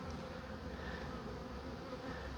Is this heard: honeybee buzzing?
yes